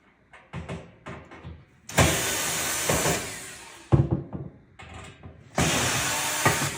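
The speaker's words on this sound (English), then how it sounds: "This one takes a Phillips bit to unscrew a couple of screws from the back here." Power driver with a Phillips bit backing out screws from the back of a gas oven: two loud whirring bursts of a few seconds each, close, separated by clanks and handling noise, no talk.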